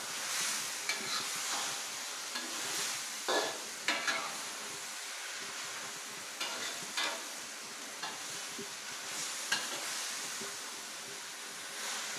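Mixed mushrooms with enoki stir-fry in a pan, giving a steady, close sizzling hiss broken by occasional scrapes and stirring knocks.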